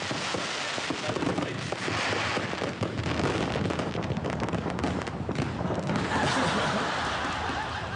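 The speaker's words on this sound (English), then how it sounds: "There's the official APEC fireworks over Sydney Harbour." Official APEC fireworks display over Sydney Harbour, a dense continuous roar of bursts and crackle filling the whole stretch, loud and steady with broadband noise throughout.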